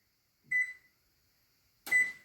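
A kitchen timer gives two short electronic beeps about a second and a half apart, close and clear against near silence.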